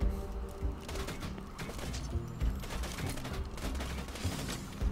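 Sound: gunfire shooting at the player in video game Borderlands 2

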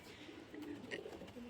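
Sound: racer pigeons cooing

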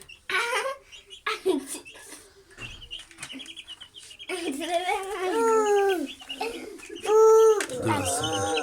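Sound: chicks peeping

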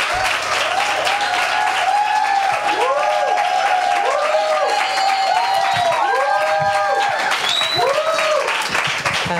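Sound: audience applause

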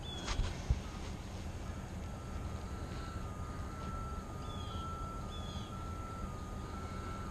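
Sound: bus passing outside the woods

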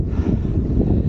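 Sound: wind

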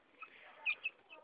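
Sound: chickens clucking

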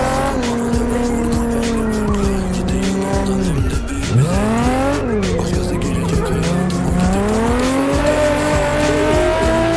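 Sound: Nissan 350Z drifting with tire squeal in video game Assetto Corsa

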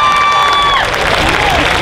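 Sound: audience applause at cosplay contest

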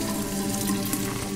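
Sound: water tap running in video game Fran Bow

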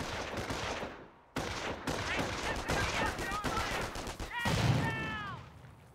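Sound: grenade and machine gun fire in video game Company of Heroes

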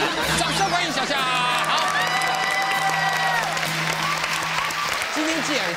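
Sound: audience applause and cheering

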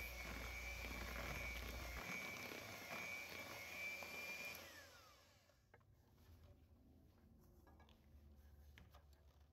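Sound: electric hand mixer running on low speed mixing banana bread batter

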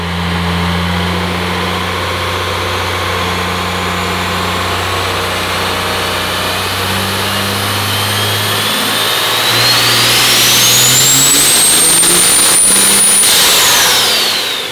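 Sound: quad cab truck diesel engine with 107mm turbo revving on dyno

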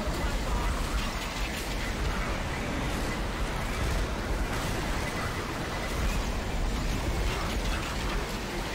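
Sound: storm effects in the video game Left 4 Dead 2

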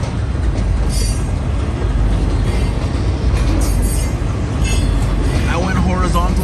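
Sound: long train with graffitied wagons passing

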